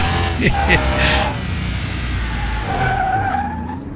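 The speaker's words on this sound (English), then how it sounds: "I started braking here, and I don't think it slowed down at all." In the Car Mechanic Simulator 2021 video game, a car's tires skid and squeal under heavy braking, a loud sustained screech with engine tone sliding down over several seconds.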